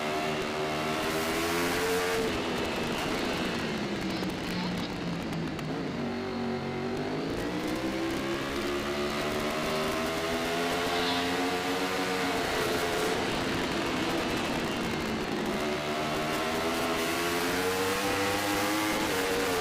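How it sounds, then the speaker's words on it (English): Open Superbike motorcycles, including a Kawasaki, race at an AFM road race, their engines roaring loud and continuous, with pitch rising and falling through gear changes as several bikes scream past together. "Jason Laritzen on the Kawasaki is being followed now by Martin Schwartz"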